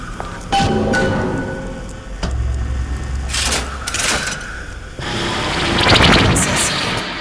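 A transformer fired up in the BioShock Infinite video game: a deep, loud rumbling boom, then rising electrical whooshes and crackling surges that build to a sustained roaring hiss, with no talk.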